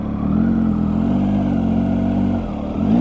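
A Triumph Tiger 800 XRx with its triple-cylinder engine, six-speed gearbox and throaty exhaust drones steadily on the move, the engine note holding even before a brief dip and rising again.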